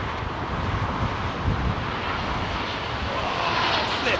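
An airliner landing in strong wind at London Heathrow Airport, its engines a steady, loud roar blended with heavy gusting wind buffeting the microphone throughout, with no pause.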